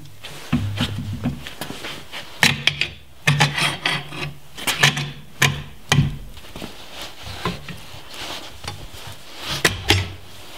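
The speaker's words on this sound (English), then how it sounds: "take a crowbar and try and just bend them out of the way" A crowbar prying and bending the clips on a heavy-duty Jeep Cherokee leaf spring pack, heard as close, irregular metallic scrapes, clanks and rasping knocks scattered through the whole stretch.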